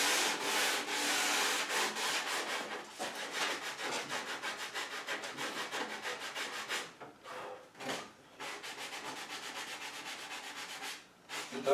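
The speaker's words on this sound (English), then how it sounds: "It does sand down nice." Sandpaper rubbing over soft poplar wood, rounding off the corners of a board for a painted Murphy bed, rasps steadily in close, loud back-and-forth strokes, with brief pauses between passes near the end.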